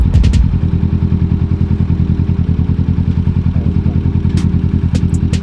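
A 2020 Kawasaki Ninja 650 motorcycle engine thrums loud and close in a steady pulsing rhythm while riding, with a short burst of noise at the start and a few faint clicks later on.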